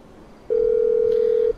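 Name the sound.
phone calling Merryweather in Grand Theft Auto V video game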